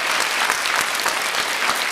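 Audience at a jazz concert breaking into steady, dense applause, many hands clapping together for the full two seconds with no voices over it.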